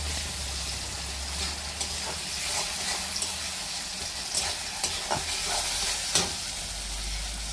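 A pan sizzles with a steady, loud hiss of frying onions and tomatoes. Occasional soft clicks and stirring cut through the constant crackle.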